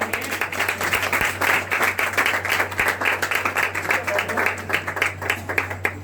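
Church congregation clapping together in a steady rhythmic beat, many hands close and continuous over a low hum.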